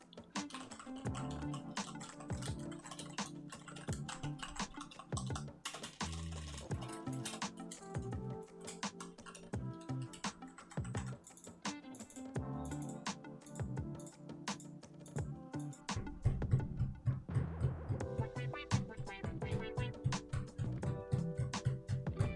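Rapid, continuous clicking of a mechanical keyboard with Cherry switches up close during gaming, dense irregular clacks with occasional heavier presses, steady throughout with no talking.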